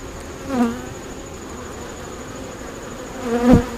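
Steady buzzing of many honeybees at a hive entrance fills the air, with individual bees flying close past the microphone twice, briefly louder.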